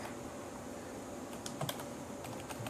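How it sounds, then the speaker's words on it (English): Light clicking keystrokes on a computer keyboard tap in a short, irregular burst, faint and close in a quiet room, with no talk. "So we're going to type something like"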